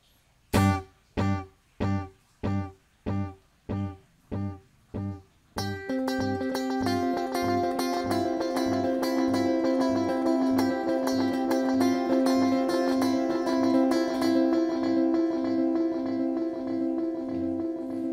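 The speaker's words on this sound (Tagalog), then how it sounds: "Isasagad ko yung delay time, isasagad ko rin yung feedback." Electric guitar notes repeating through an M-Vave Cube Baby delay set to maximum time and feedback, first sparse plucked echoes, then a dense sustained wash of overlapping repeats building and lingering.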